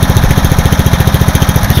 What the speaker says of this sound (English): That has to be one of the smoothest Briggs engines I've encountered for a while.